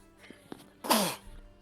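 A single loud sneeze bursts out once, close and sharp, after a couple of faint clicks during a tabletop role-playing session indoors.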